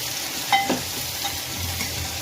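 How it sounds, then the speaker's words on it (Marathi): Chopped tomato hits hot grated coconut in a pan with a steady close sizzle and a couple of sharp utensil clinks against the pan early on, no voices. "एक बारीक चिरून घेतलेला टमॅटो त्यामध्ये ॲड करून घ्यायचा व्यवस्थित"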